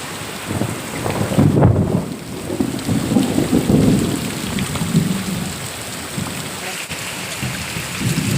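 Deep rumbling thunder rolls and swells over a steady downpour of rain, the rumble fading and returning while the rain keeps hissing.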